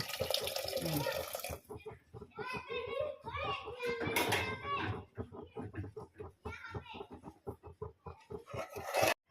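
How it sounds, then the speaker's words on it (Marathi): Tap water running and splashing into a pot of salted water for palak paneer rice, heard in bursts under close, continuous talk in a home kitchen. "भाताला जेवढं पाणी लागते तेवढं पाणी टाकायचं"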